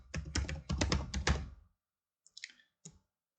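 Fast typing on a computer keyboard while working in Revit: a close, busy burst of key clacks, then silence and a few scattered, quieter taps and a final click.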